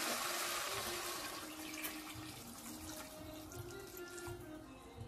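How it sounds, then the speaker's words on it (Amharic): Water pours from a tap or jug into a cooking pot of partly fried potatoes and meat, a steady close splashing and gurgling with no talk over it. "አሁን የሚያስፈልገኝን ውሃ መጠን ነው የምንጨምረው"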